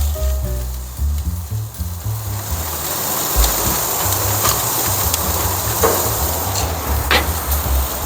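Frozen burger patties sizzle steadily on a gas grill, a continuous broad frying hiss with a few sharp pops and low rumbling underneath, close and fairly loud throughout.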